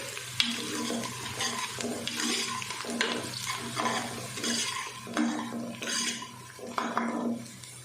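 Whole spices (cloves, black cardamom, bay leaves, cinnamon sticks and black peppercorns) frying in hot oil, heard as a close crackling sizzle broken by regular scraping stirs and light clinks against the pot, with no voices.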